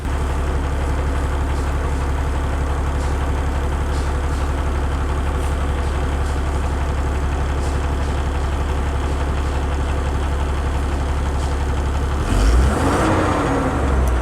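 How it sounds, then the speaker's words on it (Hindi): A vehicle engine runs at a steady, loud, low idle with a constant deep throb, then briefly rises in a short rev near the end, with no voices. "ये गाड़ी को अब हम स्टार्ट कर रहे हैं।"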